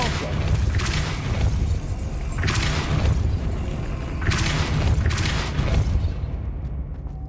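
Repeated booming spell blasts from the Depulso charm in the video game Hogwarts Legacy, several heavy bursts over a rumbling low background, loud and close, with a voice speaking in between.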